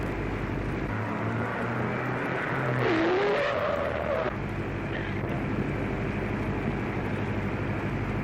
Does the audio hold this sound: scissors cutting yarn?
no